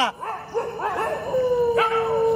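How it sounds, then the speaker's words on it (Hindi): Dogs barking and yelping with a drawn-out howl, several rising calls close by and mostly alone, during a nighttime fire ritual for a yakshini goddess. "कुत्तों की आवाज सुन।"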